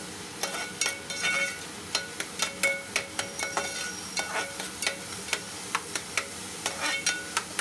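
Tomato and turmeric frying and being stirred in a pan for a Telugu-style pomfret fish curry, with a steady soft sizzle under repeated sharp, clicking scrapes of the spoon against the pan.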